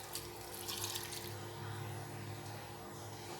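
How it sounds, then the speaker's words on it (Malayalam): Water poured into a pot of vegetables for Kerala-style sambar, a steady, moderately loud pouring and splashing that runs continuously with no voices. "ആവശ്യത്തിനുള്ള വെള്ളം ഒഴിച്ചു കൊടുക്കുക."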